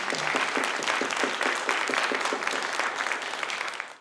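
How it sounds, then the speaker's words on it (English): An audience at an academic grant award event applauds a recipient, dense continuous clapping from a room of people that holds steady and then quickly tapers off. "A round of applause for Kimberly Knowles."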